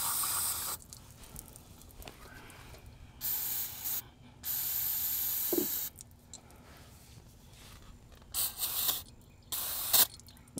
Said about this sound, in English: Spray some brake parts cleaner on here.